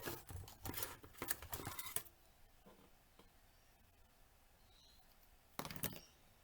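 Scissors cutting ribbon while making a layered card: a rapid flurry of crisp snips for about two seconds, a long quiet gap, then another short burst of snipping near the end.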